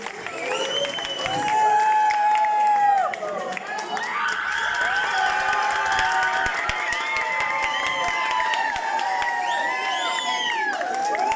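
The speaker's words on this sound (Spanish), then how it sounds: "un aplauso para ellos" Applause and cheering from the audience at a school gala, with children shouting, continuous clapping mixed with lively voices and background music for about eleven seconds.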